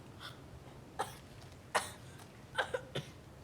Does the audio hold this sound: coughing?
yes